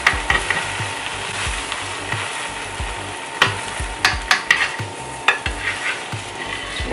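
Egg French toast sizzles in a pan after being flipped, a steady frying hiss broken by several sharp clacks and scrapes of a spatula against the pan.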